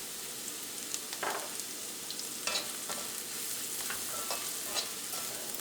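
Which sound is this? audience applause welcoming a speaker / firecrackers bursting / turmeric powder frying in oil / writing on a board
turmeric powder frying in oil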